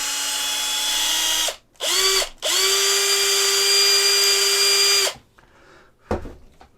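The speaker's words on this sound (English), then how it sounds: "so we can definitely drill into him" A power drill bores into a resin model kit figure of a Predator, a loud whining spin in three bursts with short pauses, the motor pitch dropping as it slows, then a quiet clunk after it stops.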